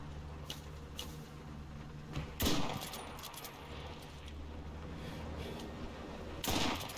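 Sharp bursts of gunfire in the video game Enlisted crack sporadically, a couple of louder shots standing out over faint rapid clicks and background noise.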